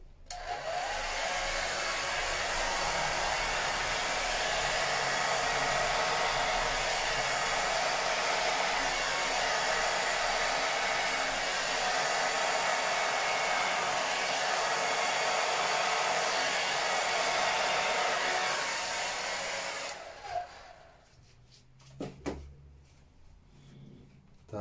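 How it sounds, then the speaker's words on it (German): Ordinary handheld hair dryer blowing in a steady, loud, close roar for about twenty seconds, then switching off, followed by a few faint handling knocks. "Jetzt nehme ich den Föhn, jetzt wird es ein bisschen laut."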